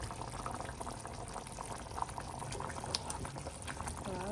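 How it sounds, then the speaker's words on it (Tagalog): Sweet potato simmers in coconut milk in a covered pot for a ginataan dessert, giving a soft, continuous bubbling with faint scattered pops, quiet and close. "pakuluan hanggang sa lumambot yung ating kamote"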